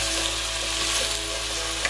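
A steady, close sizzle comes from vegetables lightly frying in a pan for khichuri, a continuous soft hiss with faint stirring, and no voices.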